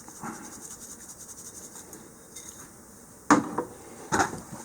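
Ground oyster shell grit and calcium are sprinkled over the top of a worm bin, landing in two short, gritty rattling bursts near the end, with faint insect chirping and quiet background hiss before them.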